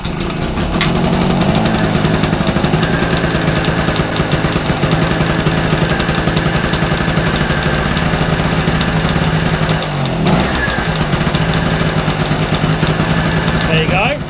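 Petrol two-stroke generator engine running at a steady fast idle, a loud buzzing, rattling drone close by that continues throughout with a brief dip near the end.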